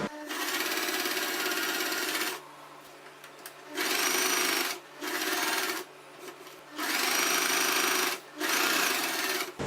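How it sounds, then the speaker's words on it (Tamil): A sewing machine stitching a churidar neckline in bursts of rapid, even whirring, several runs of a second or two broken by short pauses, close and clear with no talk. "இந்த நெக்லைனை இப்படி வச்சுட்டு நம்ம வந்து இப்போ தைச்சிக்கலாம்."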